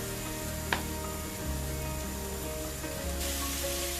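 Chopped onion sizzles steadily in a frying pan, a constant close hiss with a faint tap near the start, no voices over it.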